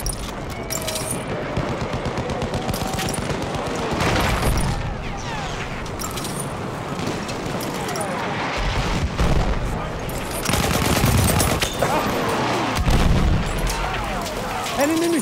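Dense battlefield gunfire from the Battlefield 1 Suez operation, with bursts of automatic machine gun fire and booming blasts running continuously through the scene, loud and close, while voices call out over it.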